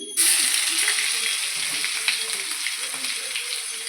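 Panch phoron spices, bay leaves and garlic frying in hot oil in a kadai, a dense, steady loud sizzle that starts abruptly and holds throughout with faint crackles.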